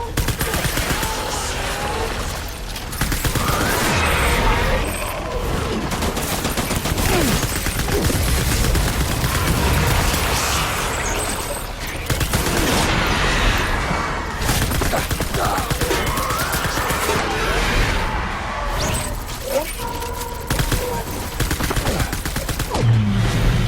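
Sustained heavy gunfire in the Death Stranding video game, a dense, continuous fusillade of machine-gun bursts that runs loud and unbroken for over twenty seconds with almost no speech.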